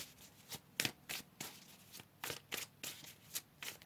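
Tarot cards are shuffled by hand in quick bursts, a close, crisp riffle of paper slapping and sliding in about a dozen short strokes, with no talk.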